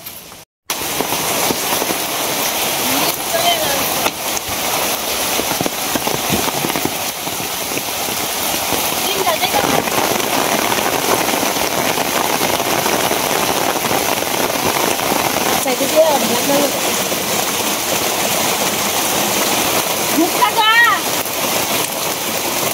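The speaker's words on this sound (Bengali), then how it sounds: "এদিকে বৃষ্টিও আইছে, ঝিম ঝিম বৃষ্টি পড়তেছে।" Steady light rain falls throughout as a soft, even hiss, with no pauses or buildup.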